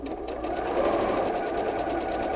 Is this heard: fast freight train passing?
no